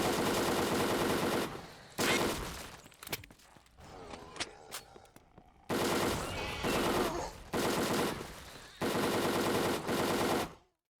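Bursts of automatic fire from a CMMG Mutant rifle in the game Those Who Remain, loud sustained volleys of roughly a second or two each, separated by short gaps with clicks and handling noise, no talking.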